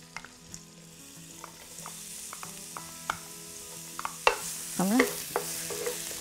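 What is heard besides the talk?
ginger and garlic sizzling in oil in a wok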